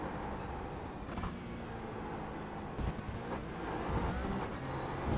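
Porsche Cayman GT4 engine in the iRacing sim at Le Mans, a steady mid-level engine drone that eases off briefly on a lift and then builds back under throttle.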